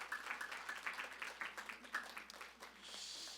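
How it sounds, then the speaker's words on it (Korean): Church congregation claps together at a service: a faint, distant round of scattered applause with a few sharper individual claps, giving way to a hissy wash near the end. "우리 좀 한번 좀 박수로 서로 좀 감사하며 격려할까요?"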